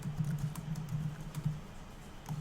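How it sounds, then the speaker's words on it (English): Steady run of keyboard typing, quick soft key clicks at a close, even pace, with no one talking over it. "I'm just typing in the chat."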